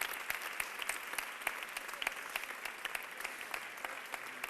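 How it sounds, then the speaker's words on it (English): An audience applauds steadily with dense, even clapping throughout, moderately distant in a hall, no voices over it. "Never has there been so much applause for such a long homework assignment"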